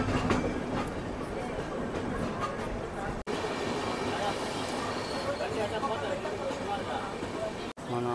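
A passenger train on the Visakhapatnam to Araku line rolls along steadily, with a continuous loud rumble and wheel clatter heard close by from the doorway, and a murmur of voices mixed in.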